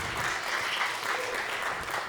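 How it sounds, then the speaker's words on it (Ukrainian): Steady applause from a crowd at a roast battle comedy show, dense and continuous clapping at moderate volume with no pauses. "Ваші оплески"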